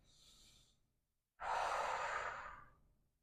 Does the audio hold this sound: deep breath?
yes